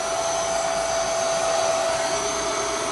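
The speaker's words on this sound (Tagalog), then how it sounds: "So, nag-vacuum tayo ngayon." A vacuum cleaner runs inside a car interior, a loud, steady motor drone with a high whine that holds constant and uninterrupted, with no talking over it.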